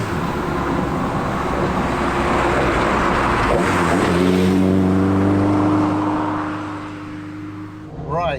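Talbot Sunbeam Lotus pulling away: a loud, close engine rises from idle into a strong revving acceleration with climbing harmonic tones, over broadband road and cabin noise, then dips as it shifts near the end.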